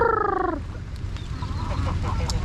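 Pet ducks calling, one loud nasal honking quack up close at the start, followed by quieter scattered calls and bustling outdoor noise.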